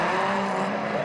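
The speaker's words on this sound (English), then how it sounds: "Calvin mashing the throttle to play catch up with Reese." A drift car engine in a 2005 Formula Drift run drones loudly at high revs under full throttle, a dense continuous roar that holds steady through the short burst.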